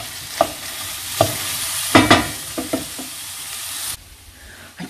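Vegetables sizzling in a pan while being stirred, with a few distinct scrapes and knocks of the utensil over a steady frying hiss that drops away near the end.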